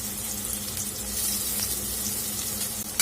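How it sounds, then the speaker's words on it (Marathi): Finely chopped onion goes into hot oil for a Solapur-style ridge gourd curry, giving a steady, close hiss of frying that holds evenly throughout, with a small clatter at the end. "तेल आपलं छान तापलं आहे तर आपण बारीक चिरलेला कांदा यामध्ये घालून घेणार आहोत"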